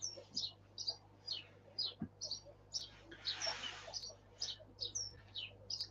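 Sparrows nesting in ivy chirp and tweet outside in a steady series of short, bright calls, moderately faint and close together, with a brief rustling burst in the middle and no talking.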